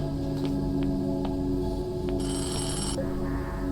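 A telephone rings in a video game, its electronic ring pulsing in short bursts over a steady ambient hum, with no one speaking.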